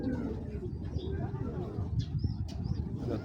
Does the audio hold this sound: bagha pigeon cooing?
yes